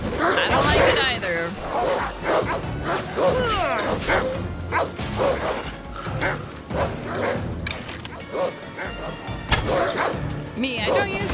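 A dog in the video game Assassin's Creed Odyssey barks and whimpers in repeated yips and cries, heard over in-game sounds while a player talks throughout.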